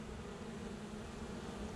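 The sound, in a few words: honeybees buzzing around open hive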